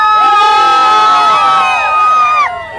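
A crowd at a class of 2019 event cheers and whoops loudly, with high excited voices rising and falling together for a few seconds before fading slightly at the end.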